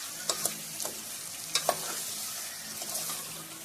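Godamba mixture being mixed by hand in a bowl, a soft broadband rustle with a few sharp scraping clicks, close and fairly quiet, no voices.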